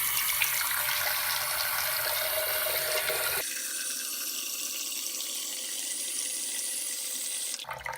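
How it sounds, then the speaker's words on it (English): Water from a sink tap pours into a measuring cup, a steady rushing stream that shifts to a higher, thinner filling tone partway through, close and continuous. "Fill this with water."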